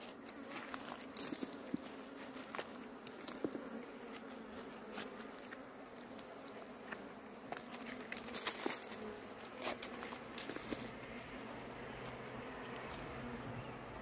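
A bee swarm hums faintly and steadily during a rescue, with scattered light taps and rustling close by.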